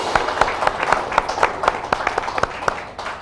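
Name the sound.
studio audience applause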